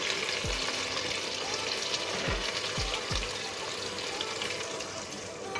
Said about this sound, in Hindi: ये प्याज डाल देंगे ऑयल के अंदर।